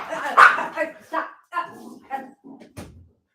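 A female dog growls and barks in short bursts close by, mixed with someone speaking over her.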